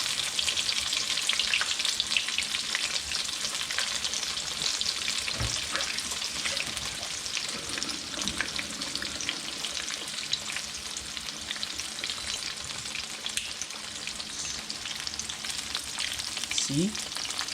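Battered shrimp deep-frying in hot oil, a dense, steady sizzle with crackling bubbles running throughout, close and loud, with occasional stirring clinks.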